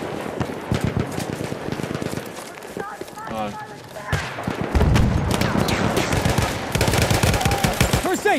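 Loud, rapid machine-gun bursts and rifle shots crackle through a Battlefield 1 Conquest match in the Argonne Forest, near and constant amid battle noise, with players talking over the firing.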